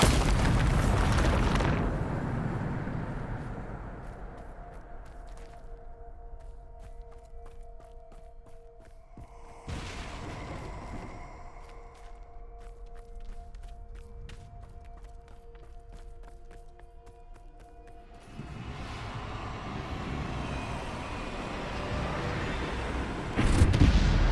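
Spell explosions from the game Hogwarts Legacy, cast with Bombarda: a loud booming burst opens, then rumbling blasts and magical effects swell and fade over a continuous soundtrack, with another heavy boom at the end.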